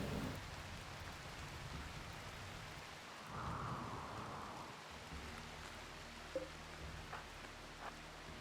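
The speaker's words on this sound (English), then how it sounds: "It's raining, so the fires will get put out." Steady rain in the video game Rimworld hisses throughout, with deep rolls of thunder rumbling underneath and a few sharper crackles near the end.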